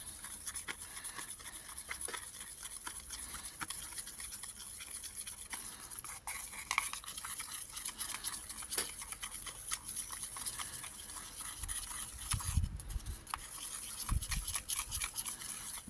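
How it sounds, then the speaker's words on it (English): Chalk mineral paint powder being stirred into modelling paste, a continuous faint scraping and scrubbing, with a few soft knocks near the end, no voices. "And just mix that into the modelling paste."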